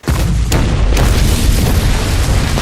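A spaceship blows up in the film Alien: Origin, a single loud, deep boom that hits hard and then rumbles on as a sustained low roar with no voices over it.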